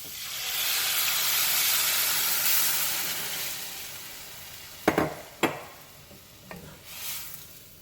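Seasonings sizzle in a hot pot, a soft hissing fry that fades gradually, then a few sharp scrapes and clacks as a utensil stirs them.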